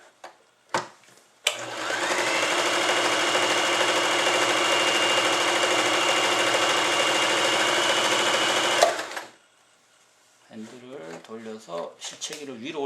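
An Elna EL2000 sewing machine runs a steady, loud stitching burst for about seven seconds, starting and stopping abruptly, with brief speech before it and talking resuming right after.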